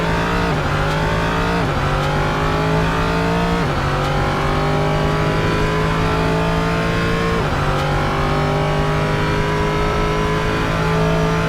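An LMP3 prototype race car at Road Atlanta in Assetto Corsa, its engine loud and close, revving up through the gears with pitch climbing then dropping at each of several shifts, continuous with no talk.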